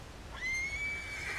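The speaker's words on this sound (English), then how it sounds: "Horse does not like that rock bit" A horse whinnies in Red Dead Redemption 2, a single fairly loud neigh rising after a brief low rumble and holding steady for about a second over game ambience.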